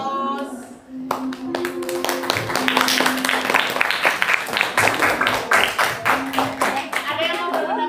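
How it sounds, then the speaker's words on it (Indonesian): A class of students claps in a room, bursts of applause with sharp hand claps, near and lively, while a voice speaks and tones sound over the clapping. "Kasih aplaus."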